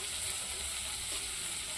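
Onions fry in a pan for a thin potol (pointed gourd) curry, giving a steady, close hiss of sizzling with faint stirring scrapes and no talking.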